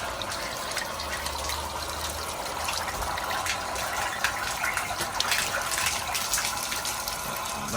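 Water gushing steadily as an outboard motor is flushed out to remove salt, a broad continuous rush heard close and fairly loud with no pauses and no voices.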